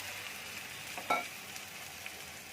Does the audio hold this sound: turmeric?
yes